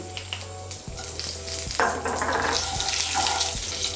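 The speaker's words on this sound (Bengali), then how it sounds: "আমি এর মধ্যে একটা তেজপাতা, 2টো শুকনো লঙ্কা আর হাফ ছোটো চামচ পাঁচফোড়ন ফোড়ন দিচ্ছি" A bay leaf, two dried red chillies and half a teaspoon of panch phoron sizzle in hot oil in a pan, a steady crackling fry nearby with a few light clinks of utensils.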